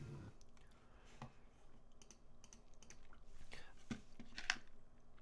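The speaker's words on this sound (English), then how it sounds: "Let me know if it's annoying, the sound of me chewing." Someone chews chocolate-covered raisins close to the microphone, with soft irregular squishy clicks and mouth noises over a quiet background, plus a few faint keyboard-like taps.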